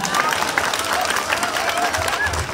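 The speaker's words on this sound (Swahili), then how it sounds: "Tupigie makofi tafadhali." Dense, steady applause from an audience at a political gathering in Murang'a, Kenya, continuing without pause through the whole stretch and mixed with crowd noise.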